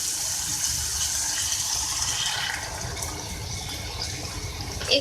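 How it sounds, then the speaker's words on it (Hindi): Water poured from a cup into a karahi of sizzling beef keema, giving a steady hissing, bubbling rush that runs without a break and with no talk. "और इसके अंदर मैं ऐड करूँगी पानी"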